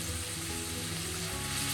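A beans stir-fry (Kerala-style payar mezhukkupuratti) sizzles softly in a pan as a little water is added, a quiet, continuous hiss with no talking.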